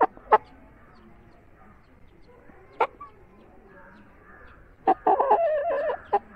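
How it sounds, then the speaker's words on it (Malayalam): An Aseel cross rooster clucks in a few short sharp bursts separated by quiet, then gives a longer run of throaty clucking near the end, close by. "അസീൽ ക്രോസ് പൂവനാണ്"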